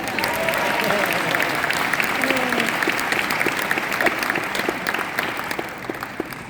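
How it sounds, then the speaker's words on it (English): An audience applauds at a rally opposing Roe v. Wade, a dense and steady wash of clapping from many hands. It stays fairly loud throughout and eases slightly toward the end, with a faint murmur of voices underneath. "A hand clap on that."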